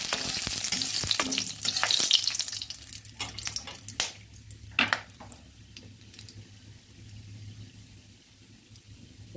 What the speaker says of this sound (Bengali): ভালোভাবে নেড়ে একটু ভেজে নিচ্ছি।